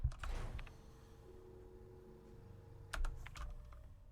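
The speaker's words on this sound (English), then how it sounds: "Yeah, I have clacky keys." Clacky computer keyboard keys click in two quick bursts of typing at the start and again about three seconds in, close and crisp. A faint low hum fills the quiet between the bursts.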